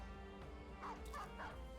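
Dogs barking and yipping in the video game Battle Brothers, a few short barks over a steady game soundtrack drone, no voices.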